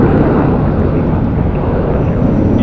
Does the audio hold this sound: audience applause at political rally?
no